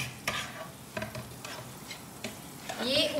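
A Raja Rani paratha, a Surat street food, cooks on a hot pan with a steady sizzle. Regular metallic taps and scrapes from a spatula punctuate it.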